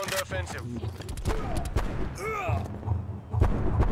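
Shotgun blasts and other gunfire in the shooter Black Ops Cold War, a loud scattered exchange of shots over game noise, with a voice talking in the background.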